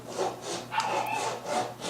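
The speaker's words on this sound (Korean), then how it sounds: "이렇게 해서 프렛 와이어가 들어갈 홈을 모두 잘라줍니다." Back-and-forth sawing of fret slots into a wooden ukulele fingerboard held in a cutting jig, with steady rhythmic rasping strokes, close and moderately loud, and no one speaking.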